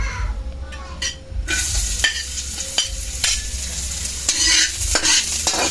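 Chopped onion sizzles and crackles in hot oil for pancit canton, with steady frying hiss throughout and a few sharp clicks of a utensil against the pan.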